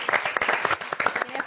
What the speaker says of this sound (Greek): ένα χειροκρότημα για την κυρία Ελένη